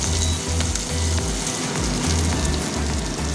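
Onion frying in a tablespoon of oil in a pan, a dense continuous sizzle and crackle, close and steady throughout.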